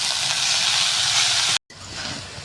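Finely chopped red amaranth greens hit hot oil with garlic and chillies for a coconut stir-fry, giving a loud, steady close sizzle that cuts out briefly and then resumes slightly softer.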